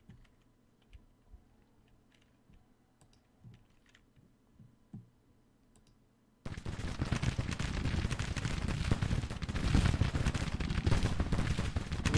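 Artillery and rifle fire in the Civil War strategy game Grand Tactician: The Civil War: scattered faint clicks at first, then a sudden loud, dense wall of continuous battle roar that holds steady to the end.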